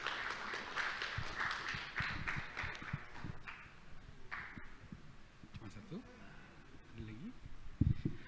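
Audience applause at an Indonesian arts talk event on stage, a dense patter of clapping for the first few seconds that thins out, with a presenter's voice heard over and after it.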